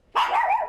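A small dog gives one short, close, fairly loud bark that stretches into a yappy, whiny tone and then cuts off abruptly.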